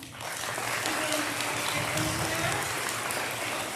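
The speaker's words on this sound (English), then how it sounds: "Give a round of applause for everyone." Audience applause at a school leadership assembly, a steady, fairly loud roar of many hands that swells in quickly and holds, with faint voices mixed underneath.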